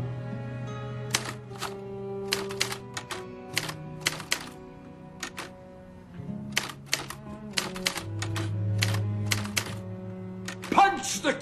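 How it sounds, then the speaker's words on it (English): Crisp mechanical typewriter keystrokes clack in irregular bursts over a sustained musical backdrop, with a carriage return near the end. "Sometimes a simple rhythm of typing gets us from page one to page two."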